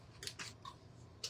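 Scissors snip through shrink-wrap plastic on a wooden shelf kit, giving a few quick, close crisp cuts in a brief burst with no talking.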